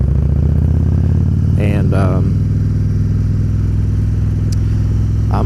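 A Harley-Davidson motorcycle engine in Stage 1 tune idles with a loud, steady, close-up lopey throb, while someone speaks briefly over it.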